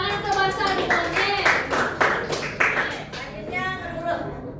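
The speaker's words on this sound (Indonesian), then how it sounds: "Tepuk tangan semua untuk Sadene" Classroom applause for a child, a burst of hand claps from a group lasting a few seconds and fading near the end, with voices mixed in.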